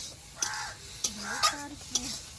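Brahmi leafy greens sizzle and are stirred in a frying pan, with a few sharp utensil scrapes and clinks at intervals and a faint voice-like murmur in between.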